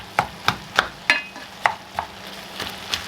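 Bacon and meat stirred in a small Dutch oven for homemade chili, giving about eight evenly spaced scraping, clinking strokes over a soft background sizzle, close and fairly quiet, with no talking.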